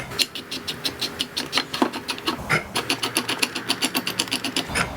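A large steel center bolt of a quarter-inch steel spring compressor is wound through its threads, making a steady close series of rhythmic ratcheting clicks and whirs with no one talking.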